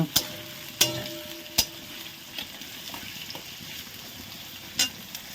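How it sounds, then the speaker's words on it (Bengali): Potato pieces frying in oil in a wok, a steady soft crackle with a few sharp clinks of stirring scattered through, heard up close with no talking. "আলুগুলো ভাজা হচ্ছে"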